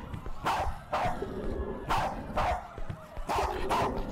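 A dog barks repeatedly in the video game Worst Case Z, sharp broadband yelps coming in pairs at a steady rhythm, close and loud over a low game ambience.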